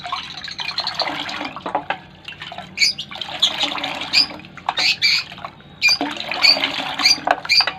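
Three lemons are stirred into water, giving splashy liquid swishing and rhythmic agitation in bursts, with brief pauses between the strokes.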